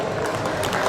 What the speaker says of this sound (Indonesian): Kita berikan tepuk tangan untuk acara ini.